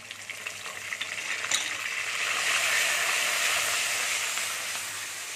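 Onion paste hits hot oil already sizzling with whole cumin seeds while matar paneer is cooked; a steady frying hiss swells after the first couple of seconds and holds, with faint stirring.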